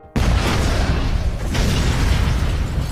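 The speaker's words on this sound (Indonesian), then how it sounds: "ia langsung melempar tasnya yang sudah diisi bom dan langsung meledak" A sudden loud bomb explosion booms after a split second of silence, followed by a sustained roaring rumble that stays heavy and dense to the end.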